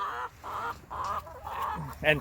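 Chickens cluck and murmur close by in a steady, busy stream of short calls, with a brighter squawk at the end.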